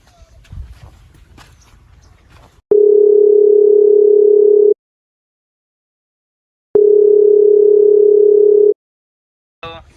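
Two long, steady beeps of a telephone ringback tone sound loudly during an outgoing phone call, evenly spaced with silence between them, after some brief rustling and movement.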